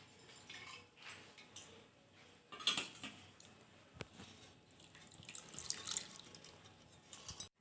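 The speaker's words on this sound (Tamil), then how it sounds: "அந்த தண்ணி வந்து கொஞ்சமாக சேர்த்து இந்த குக்கர் வந்துட்டு இது மாதிரி கொஞ்சம் அலசி விட்டுடலாம்" A pressure cooker being rinsed with a little water, with faint sloshing and drips and light metallic clinks of the pot, quiet and close with no talk.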